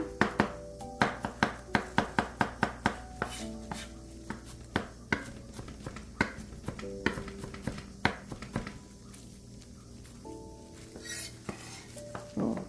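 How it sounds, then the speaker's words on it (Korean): A knife finely chopping a small piece of onion on a cutting board for a Korean seasoning sauce, giving a steady run of quick, close, sharp taps that slow slightly and thin out later. "양파는 작은 거 4분의 1 정도만 이렇게 좀 쫑쫑쫑쫑 썰어 주세요."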